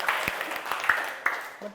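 Students in a class give a short round of applause, irregular hand claps ringing out over a murmuring room, with a few louder individual slaps standing out near the end.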